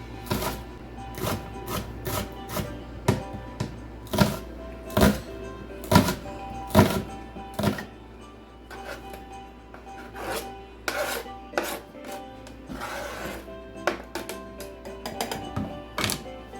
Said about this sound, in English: I'm going to take my onions and cut them up.